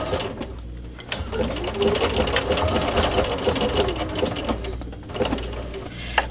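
Home sewing machine stitching machine appliqué on quilting fabric, a steady close mechanical whir with fast needle chatter running continuously throughout, with brief pauses and no talking.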